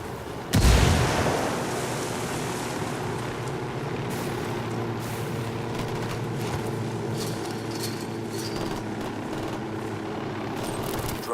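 A grenade explodes in the Ghost Recon Wildlands co-op shooter, a single loud, close blast followed by a lingering low rumble and scattered distant gunfire.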